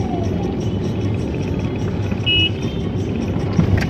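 A Chevrolet Beat with a three-cylinder engine rolls along on its own in gear, heard from inside as a steady low engine and road drone, with faint road noise and no talking.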